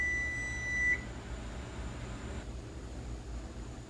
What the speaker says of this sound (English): I took the biscuits out when the timer went off